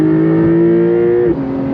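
A 2025 Porsche 911 Carrera S engine pulls hard on throttle, a loud steady climbing drone from inside the car, then drops sharply in pitch near the end as the gear changes.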